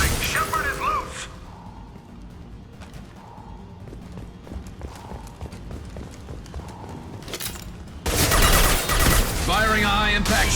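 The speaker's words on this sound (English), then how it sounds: "Firing a high-impact shot" A high-impact shot fires in the sci-fi shooter Mass Effect 2, a loud, sharp burst arriving near the end after quieter game sounds and voices.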